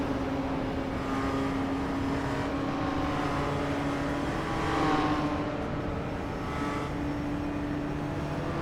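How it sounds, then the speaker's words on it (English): Race cars in the iRacing sim roll past with a steady, humming engine drone that swells briefly midway before settling back to a constant, moderately distant whine. "I'm going to let these cars go by"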